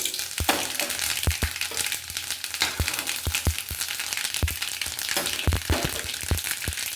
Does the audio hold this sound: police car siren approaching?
no